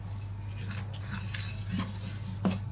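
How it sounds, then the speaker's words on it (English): Salted butter and icing sugar being worked together in a bowl with a utensil: soft, steady scraping and stirring at close range, broken by a couple of light clinks against the bowl. "Just do it a bit at a time and you just mix it in."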